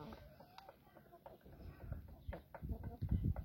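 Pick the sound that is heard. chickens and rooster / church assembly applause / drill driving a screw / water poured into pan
chickens and rooster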